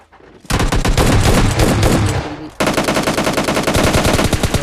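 Automatic gunfire from an MK14 rifle in PUBG Mobile Lite rattles in long, loud, rapid bursts, with a brief dip before a second sustained volley, close and dominant without talk.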